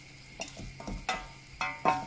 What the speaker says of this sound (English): Oh, I just realised you're using a spatula, not a spoon. No wonder I can't stir it proper.